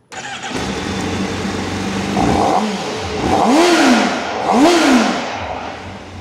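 A Honda CBR1000RR Fireblade SP superbike engine cranks and fires up, then idles before two strong revs rise and fall, loud and close.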